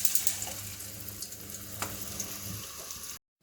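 Paneer pieces frying in hot oil, a close, steady sizzle with scattered crackles and small pops that cuts off abruptly into silence near the end.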